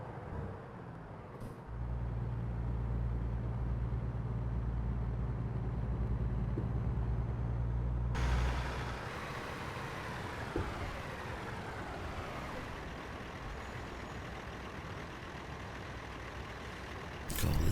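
A truck backing a trailer into a parking spot in American Truck Simulator: a steady low diesel rumble, then a sharp air-brake hiss midway, followed by a quieter idling drone.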